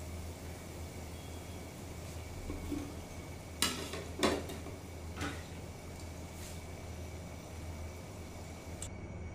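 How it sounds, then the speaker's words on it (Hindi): Sev besan pakoras fry in hot oil, giving a faint, steady sizzle punctuated by a few sharp clinks of a utensil against the pan. "अब ये देखिए, पकौड़े हमारे दोनों तरफ से अच्छे फ्राई हो गए हैं।"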